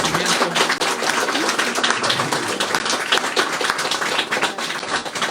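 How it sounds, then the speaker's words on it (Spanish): Dense, sustained applause from a church congregation honoring children during a deacon installation service, steady and loud throughout. "le damos un fuerte aplauso a los chiquillos"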